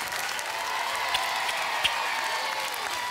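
A television studio audience claps for a 15-year-old singer on a children's talent show, an even wash of applause with a couple of sharper claps standing out.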